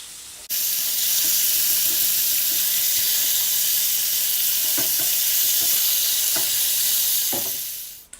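Food dropped into a cast iron pan bursts into a loud, steady sizzle that holds throughout, with occasional soft clicks, then cuts off sharply at the end.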